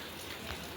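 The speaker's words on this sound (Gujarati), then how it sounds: "વરસાદ જ છે નકરા." Steady rain falls in a soft, even hiss of dense drops, constant and without pauses, heard alone over a brief moment.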